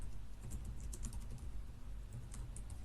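Faint, steady keystrokes tapping out Python code on a computer keyboard, continuous light clicking over a low background hum.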